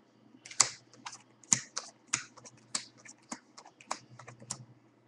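Playing cards dealt one at a time into piles on a table, a quick series of about a dozen crisp, close slaps and snaps at an uneven rhythm, with no talking.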